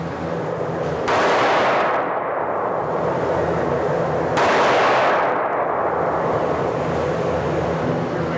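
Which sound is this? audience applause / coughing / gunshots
gunshots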